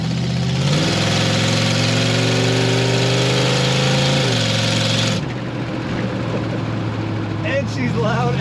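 A loud 1932 Ford Delivery street rod engine runs close by at high revs with a steady roar, then the pitch drops as the throttle eases off and the note settles into a lower rumble with road noise.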